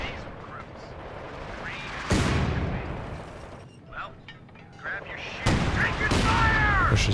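Machine-gun bursts and battlefield blasts in Company of Heroes 2 crack out in sharp, loud volleys with quieter gaps between them, while a commentator talks over the fighting.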